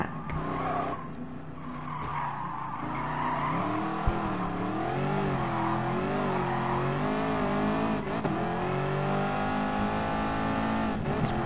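A race car engine in the Gran Turismo Sport video game roars loudly and continuously for the whole stretch, its pitch climbing and dipping through gear changes, with tires skidding and squealing along the way; nobody speaks.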